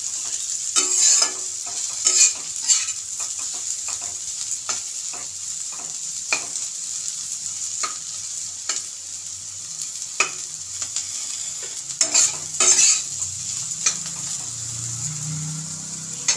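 Boiled vegetables for fried rice are stir-fried in a pan with a soft, continuous sizzle, punctuated by repeated sharp scrapes and clatters of a spatula stirring at irregular intervals, alone with no talking.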